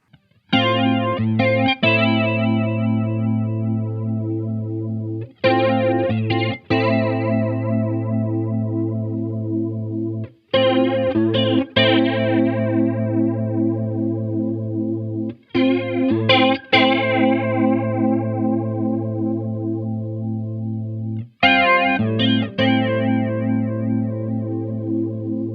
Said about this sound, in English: you have a wide range of sound that falls outside what you might expect from a flanger